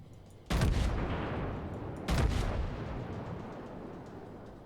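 Two booming salvos from battleship guns in World of Warships, each a sudden loud blast followed by a long rumbling decay, spaced about one and a half seconds apart.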